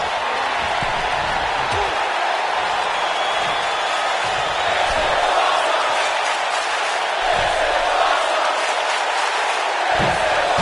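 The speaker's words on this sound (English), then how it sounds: "This crowd never doubted The Rock's ability to get back in this thing" Wrestling crowd at an Evolve Intercontinental title match roaring steadily throughout, a dense wash of cheering and shouting with occasional thuds from the ring underneath.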